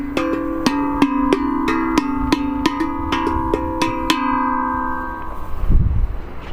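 A smaller drum-like percussion instrument at an outdoor park in Warsaw, Poland, struck about a dozen times in a steady rhythm, each hit a bright ringing metallic tone that decays into a lingering hum before a low rumble at the end.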